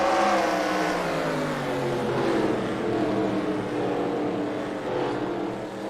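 Race car number 65 coming around the dirt track at Devils Bowl in Texas during the Truetimber Camo 100, a loud continuous engine roar with shifting revs, dense and close throughout.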